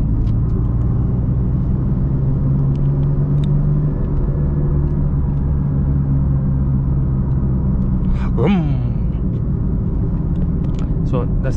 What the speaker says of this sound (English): That's the sound of my bike. Vroom,